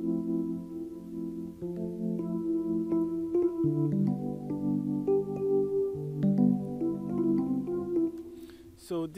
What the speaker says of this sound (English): this guy here is actually an electric piano,